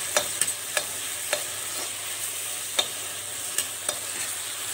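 Onions, tomatoes and peas frying in a pan after a small splash of water, giving a steady soft sizzle broken by sharp scrapes and taps of a stirring spoon every second or so, with no talking.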